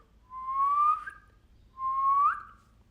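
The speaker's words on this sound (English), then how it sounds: "you can put your tongue out, but slide it to the side and then try to whistle" Two rising whistled notes, each sliding upward for about a second with a short gap between, made by whistling with the tongue stuck out and slid to one side, as a mouth trick for dubstep-style sounds; clear and close with no talk.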